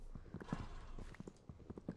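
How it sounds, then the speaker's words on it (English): Horse hooves clip-clop in a quick, steady walking rhythm in a Minecraft game, a close series of crisp hollow knocks heard alone without talk. "Is that just a horse?"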